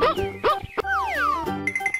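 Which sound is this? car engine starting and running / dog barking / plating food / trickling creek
dog barking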